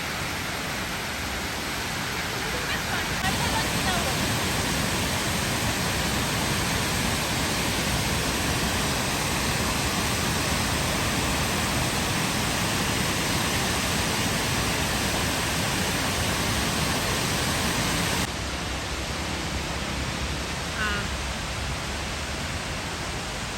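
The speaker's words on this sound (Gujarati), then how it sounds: "ડેમ આખો ઓવરફ્લો થયો ડેમ અને પાણી જો કેવું જાય" Water from an overflowing dam pours over the spillway in a steady, loud, broadband roar that stays constant throughout, with no voices.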